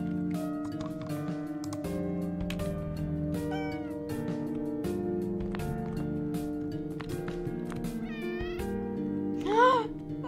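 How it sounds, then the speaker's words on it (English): Small cat meows in the video game OneShot chirp a few times over steady, looping game music and clicking sounds, with a louder meow near the end. "I love these little cat sounds!"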